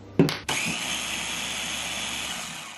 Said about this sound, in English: I'm gonna go ahead and mix it up.